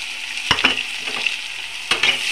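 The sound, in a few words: chopped onions frying in a pan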